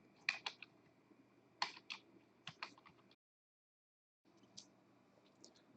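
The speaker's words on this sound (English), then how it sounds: "I'm going to type the username is Calvin," Typing on a computer keyboard at a Windows Server 2022 workstation, a few quick bursts of soft keystrokes with a short silent gap, faint and close, with no talking.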